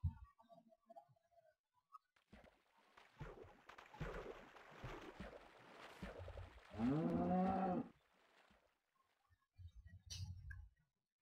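A cow in the Minecraft video game gives several low moos across the span, with a longer drawn-out bellow near the middle and quieter grunts around it, alone without speech.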